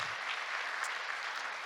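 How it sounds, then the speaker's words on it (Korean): An audience at an apartment redevelopment presentation and agreement signing ceremony applauds warmly, a steady, full burst of clapping from many hands that carries evenly without pause. "다시 한번 뜨거운 박수를 부탁드리겠습니다."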